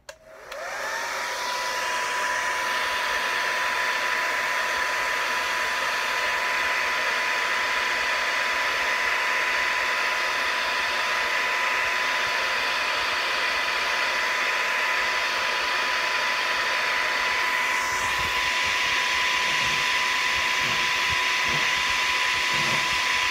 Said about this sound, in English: I got a hair dryer here.